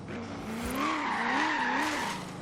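Chevrolet Camaro Z28 in the Forza Horizon 3 racing game, engine droning steadily with a rising, wavering pitch as the tires spin and skid, loud and continuous throughout.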